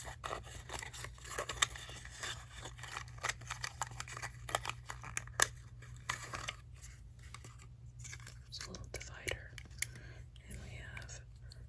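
Soft crinkling, tearing and scraping of plastic Miniverse Spring Series 2 miniature toy packages being opened up close, with light clicks and rustles over a low steady hum.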